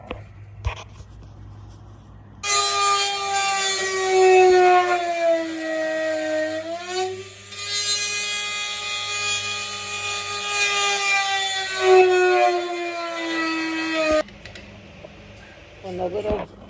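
A Dremel rotary tool cuts during a door lock and latch repair on a 1973 Mustang Mach 1. It gives a loud, sustained high whine that rises and dips in pitch under load for about twelve seconds, then stops abruptly.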